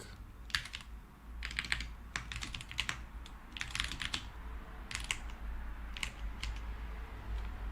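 Typing on a computer keyboard in irregular bursts of quick clicky keystrokes, close and fairly quiet, over a low steady room hum with no talking.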